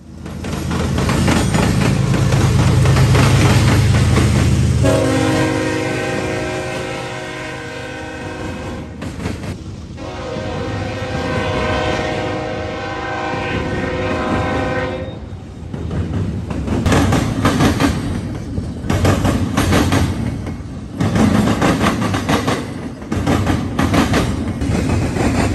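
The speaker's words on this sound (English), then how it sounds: "NS 266 heads south at the Marion Depot with a single BNSF GEVO." NS 266, a daily Chicago train led by a single BNSF GEVO locomotive, passes southbound at the Marion Depot; a loud, sustained multi-tone horn blasts twice in the middle, with rumbling wheels and clatter throughout, no talk.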